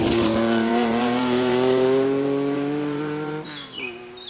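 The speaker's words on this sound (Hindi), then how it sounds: "थोड़ी देर बाद मोहन अपनी मोटरसाइकिल पर आ जाता है।" Cartoon sound effect of a motorcycle arriving, a loud revving engine tone that rises and then winds down as it pulls up, followed by a brief squeaky chirp.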